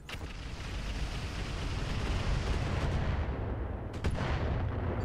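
Missile racks on a mech firing in Roguetech, a dense continuous roar of launches and impacts rumbling for several seconds, with a couple of sharper bursts near the end.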